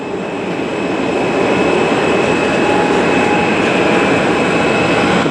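A British Airways Boeing 777-200ER Classic jet airliner on flight BA217 from London Heathrow to Washington Dulles gives a loud, steady, unbroken engine and airflow roar heard from inside the cabin, with no talk.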